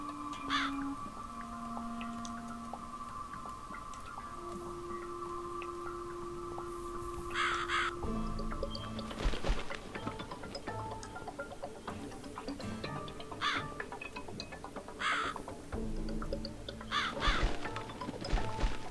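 Crows caw repeatedly in The Cat Lady video game, harsh calls sounding several times over a sustained tonal drone and ticking ambience, moderately loud and without speech.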